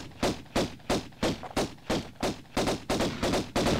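A centaur enemy firing in Tomb Raider I's Tomb of Tihocan: about a dozen sharp, evenly spaced shots in quick rhythm, loud and close, with no voices.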